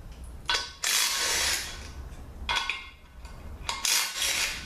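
A DeWalt cordless impact gun fires in three short bursts of loud rattling hammering during a ZF5HP24 transmission teardown, with quiet pauses between them.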